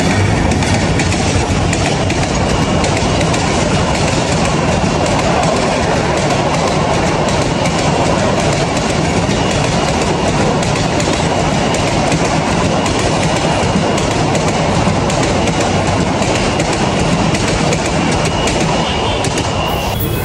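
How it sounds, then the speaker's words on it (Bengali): A train rumbles loudly and steadily at a railway station in Dhaka, a continuous close roar with rhythmic clickety-clack of wheels over rail joints running throughout. "এখন আমরা একটু চলে গেলাম রেল স্টেশনে।"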